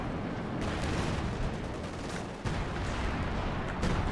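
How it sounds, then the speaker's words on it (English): Artillery shells pounding a Panzer IV tank in a war game, a dense rumbling barrage of blasts and crackling fire, loud and continuous with sharper impacts near the middle and end. "Panzer IV is getting artied here."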